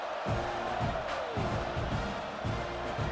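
In EA Sports College Football 26, a stadium crowd keeps up a dense, continuous roar for the whole stretch, broad and steady, with a few deep thumping swells rising through it.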